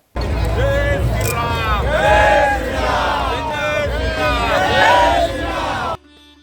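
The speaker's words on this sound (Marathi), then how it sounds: "यावेळी राम भक्तांचा जल्लोष ओसांडून वाहत होता" A large crowd at a Ram procession in Paithan cheers and whoops loudly and continuously, rising and falling voices overlapping in a dense, energetic roar that cuts off abruptly near the end.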